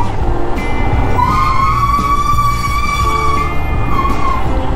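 Loud, heavy truck grinding along a mountain road close behind, its engine droning steadily with a long high whine rising over it, as if straining under load or with failing brakes.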